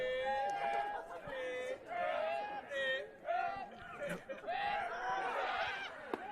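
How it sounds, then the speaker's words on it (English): At a college baseball game, the crowd keeps up a steady murmur of chatter in the stands, a low buzz running underneath close play-by-play commentary. "Crowd's still buzzing"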